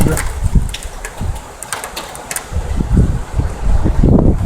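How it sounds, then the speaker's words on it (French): Wind picking up during a violent thunderstorm in Amiens, arriving as loud, rough gusts that swell and fade in uneven bursts close to the microphone, with no one speaking. "le vent qui se lève"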